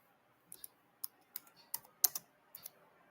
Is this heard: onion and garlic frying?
no